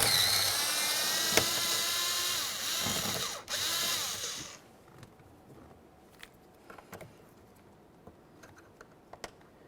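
A power driver backs out 7mm bolts from the door of a 2001-2005 Ford Explorer Sport Trac: a loud, close whine runs for several seconds with a brief break, then gives way to quiet clicks and taps.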